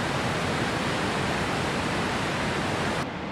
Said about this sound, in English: Here's the sound of Lady Evelyn Falls.